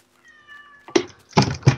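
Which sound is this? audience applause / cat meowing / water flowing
cat meowing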